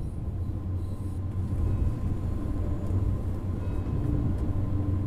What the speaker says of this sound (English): This particular train is a third-generation intercity express built by Siemens in Germany for international operations